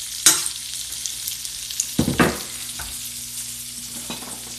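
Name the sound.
sautéing vegetables in a pot for potato soup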